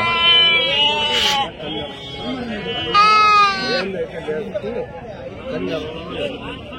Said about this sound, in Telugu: ఆడ మేకలు ఉన్నాయి.